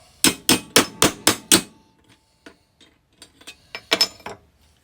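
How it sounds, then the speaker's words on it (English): A hammer strikes the steel headlight cage of a Honda Big Red utility vehicle, five sharp, loud, evenly spaced metallic whacks up close, then a pause, a few light taps and another quick cluster of blows. "And I'll give it a couple of whacks here."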